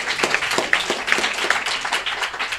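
A small audience applauds for a city manager being introduced at a community gathering, a moderate, close patter of individual claps with a few distinct sharp hand strikes.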